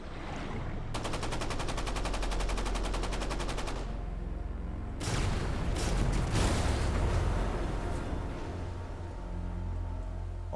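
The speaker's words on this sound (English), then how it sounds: "All 3 torpedoes hit home." An American submarine's torpedo salvo strikes convoy ships in a wartime documentary reenactment: a rapid crackling rattle of blasts gives way to heavy, rolling explosions and a deep rumble that fills the scene, loud and continuous.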